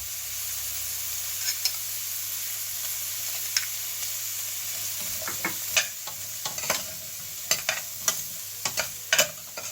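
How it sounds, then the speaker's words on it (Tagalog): Bell pepper and ginger stirred in a hot frying pan, a steady sizzle with scattered sharp scrapes and clacks of the utensil, growing busier toward the end; no voices. "Ihalo lang po ng konti at lulutuin po natin"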